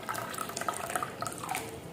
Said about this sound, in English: And you have to get a clean bowl like this. Add water into it, a warm water.